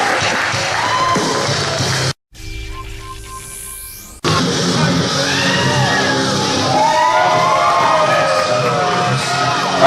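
A wrestling event crowd cheers and shouts in a loud, steady roar filling the space, briefly cut by a short break before the noise resumes at full strength.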